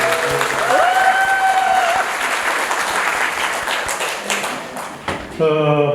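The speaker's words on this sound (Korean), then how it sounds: "박수 부탁드리겠습니다" Audience applause at a special lecture event in Gyeongju, loud sustained clapping from a hall full of people, with a voice and a brief tonal sound mixed in near the start and end.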